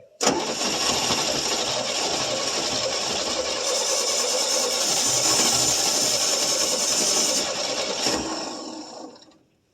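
A 1966 GMC inline-six engine started for the first time in at least two years, cranking and running with a steady loud mechanical roar for about eight seconds before dying away.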